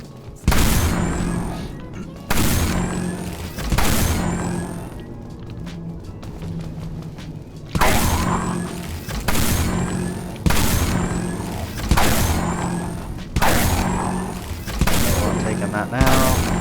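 Heavy single shots from a gun in the online zombie shooter Dead Frontier, fired during a factory loot run, boom out loud and close at a steady pace of roughly one every second and a half, each with a short decaying tail.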